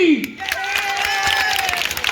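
An audience claps for a girl at a live stage show in Ahiwara, a scattered round of applause heard under a singer's or host's amplified voice and music.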